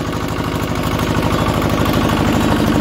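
A Lister diesel engine runs in a small shed, a loud, close, rapid and perfectly regular thumping beat with no voices over it.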